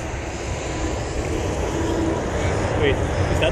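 Roar of an Atlas V rocket launch, a steady broadband rumble that fills the whole clip, loud and continuous with no break.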